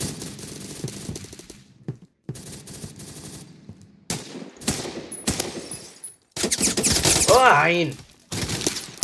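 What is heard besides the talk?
gunfire in video game Roblox Phantom Forces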